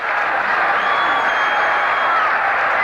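Crowd at a 1978 Angels baseball game against the Yankees murmurs and cheers in a steady, dense roar with scattered applause, sustained throughout at moderate distance.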